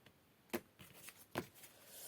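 A deck of tarot cards being cut by hand during a reading: two soft, brief papery riffles about a second apart, then a sharper card slap at the end, quiet in a calm room.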